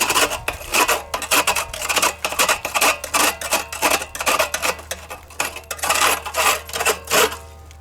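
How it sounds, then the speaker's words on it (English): A hand tool scraping the inside of a chimney, producing loud, close, rasping strokes in an irregular rhythm of repeated scrapes and rubs, heard alone without talk. "So I'm just going to take it and scrape the inside of this."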